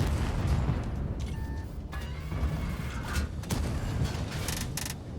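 A French tank's gun fires shells in a video game, sharp booming shots with mechanical reload clanks and creaks between them, set against a dense ongoing battle background.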